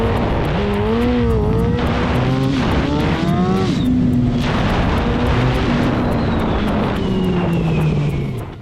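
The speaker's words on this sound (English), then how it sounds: "When the bike's on power, it's almost like the clutch is slipping at high RPMs." A loud Suzuki motorcycle engine revving hard and continuously, pitch climbing and sagging unevenly from a slipping clutch at high RPM, with no voices.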